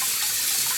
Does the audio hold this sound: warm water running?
yes